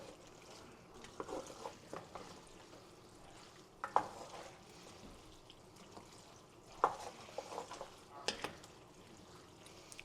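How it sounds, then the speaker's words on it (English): Food in a skillet is stirred with soft scraping and gentle sizzling, broken by a few sharp clinks of the utensil against the pan, quiet and close. "And now we're just going to stir this all around"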